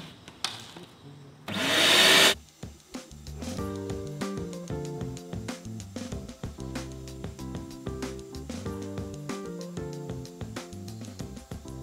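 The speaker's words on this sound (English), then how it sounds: "But first off, I'm gonna vacuum the blind." A vacuum cleaner on a synthetic roller blind gives a loud, steady broadband whoosh lasting under a second, then stops while music plays through the rest.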